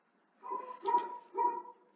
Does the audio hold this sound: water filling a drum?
no